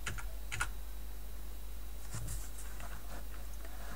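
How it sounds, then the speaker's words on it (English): Computer keyboard arrow keys are tapped in a few scattered clusters of sharp, light clicks against quiet room tone. "Hold shift and the down arrow and it'll move faster"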